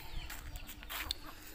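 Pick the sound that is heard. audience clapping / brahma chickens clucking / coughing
brahma chickens clucking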